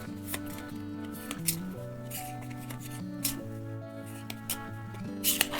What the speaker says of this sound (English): Okay, so let's shuffle up these goals.